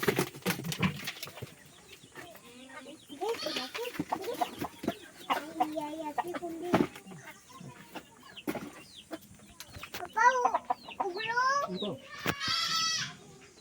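Multicoloured hens and a rooster clucking in a farmyard after transport from Mumbai to Konkan, repeated close clucks and squawks with a goat-like bleat among them, people talking between the calls.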